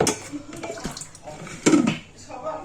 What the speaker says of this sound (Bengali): তো দেখো আমি জল দিয়ে দিলাম